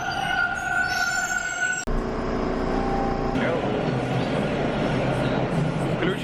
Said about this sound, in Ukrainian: Вітання із метро в Торонто.